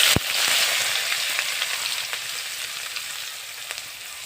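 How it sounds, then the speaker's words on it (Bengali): Pieces of pangas fish fry in hot oil, giving a loud, steady broadband sizzle with fine crackles throughout and a sharp tap near the start, with no talking. "এবার আমি একটা একটা করে মাছ ভেজে একটা বাটির মধ্যে উঠিয়ে নিব।"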